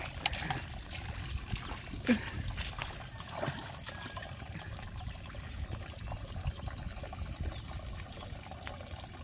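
Water is poured into a power tiler engine, a faint, steady trickle running continuously under low background noise.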